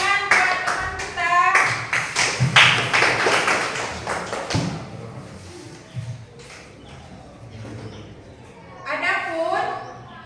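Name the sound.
class applauding a classmate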